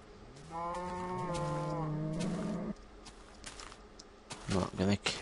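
A cow in Minecraft gives a long, close, drawn-out moo lasting about two seconds, followed by quieter game sounds and a few brief bursts of a person talking.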